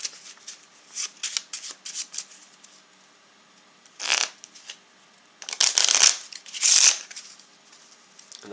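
Space Hulk Death Angel Genestealer cards are shuffled close by: rapid riffling bursts and soft card taps, with louder, fuller riffles in the second half separated by short quiet gaps.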